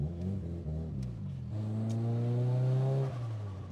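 A Mitsubishi Lancer Evolution VIII MR engine with a twin-plate clutch revs up and down through a couple of throttle blips, with a rattling whir underneath, close and fairly loud with no talking.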